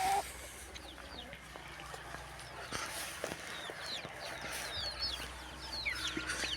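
Young chicks kept in a two-part cage, grown large, cluck and chirp in a busy farmyard, with scattered high calls and bird sounds over steady low background noise.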